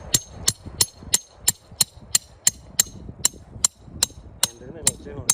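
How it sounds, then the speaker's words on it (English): A hammer striking a chisel to break up rock while prospecting for radioactive minerals outdoors in Petaca, New Mexico, giving a steady run of about fifteen sharp, ringing metallic blows at close range. "If it doesn't pop right out of there, then I'll use my chisel and hammer to break up the"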